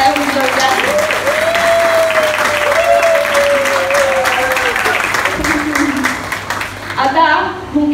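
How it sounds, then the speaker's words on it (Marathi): An audience at a Marathi skit by a Bengaluru group breaks into loud, sustained applause for the writer, steady throughout and easing slightly near the end, with a voice rising over the clapping. "तिच्या खुमाकदार आणि चटकदार लेखनासाठी एकदा जोरदार टाळ्या वाजवल्या"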